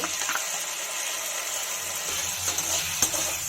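A spoon stirs bread upma with tomato sauce in a pan, giving a continuous sizzle with scattered scraping knocks against the pan, fairly close and loud.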